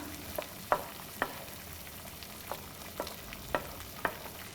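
Plum tomatoes pushed down and stirred in a pan for a penne pasta sauce: soft steady sizzling with a series of sharp spoon scrapes and clacks at roughly half-second intervals, no talking.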